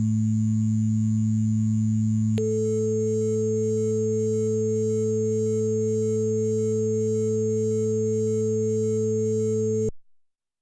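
A steady synthesized sine tone from OctaMED on an Amiga hums, then brighter added harmonics join it and the layered tone holds evenly before cutting off abruptly.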